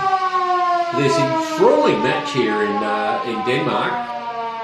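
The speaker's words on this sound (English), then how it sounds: "There's a siren." A long wailing siren sounds at an Australian rules football match between Denmark-Walpole and Mt Barker in the Great Southern Football League, marking the end of the first half, held steady under a commentator's continuous talk.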